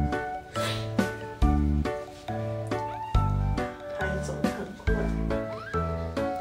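A tiny kitten meows repeatedly in short, insistent cries, close and clear, over a steady looping music bed.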